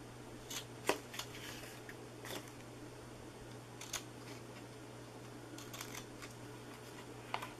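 Scissors snipping paper for a no-glue box, a few sparse, crisp cuts close by over a quiet hum, with no talk.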